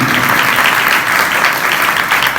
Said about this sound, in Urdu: بھرپور تالیاں کے لیے